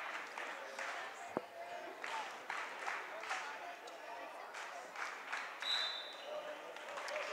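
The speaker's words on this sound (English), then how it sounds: "They're giving a round of applause as they come out of the game." Spectators at a Hutch vs Galena girls' basketball game applaud as the substitutes check in and the starters come off. The clapping is soft, steady and distant, and continues for several seconds under the noise of the gym.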